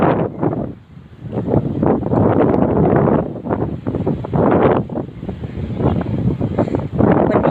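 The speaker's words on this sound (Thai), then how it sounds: "แต่ก็อยู่ใกล้ทะเลมันก็จะลมแรงหน่อยค่ะ ลมแรง" Strong wind roars across the microphone on a moving boat at sea near the coast, a loud continuous buffeting rush that swells and dips throughout, with engine and water noise blended underneath.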